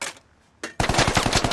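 In the Squad video game, a short gunshot is followed by a brief pause and then a rapid, loud burst of automatic fire that keeps going to the end.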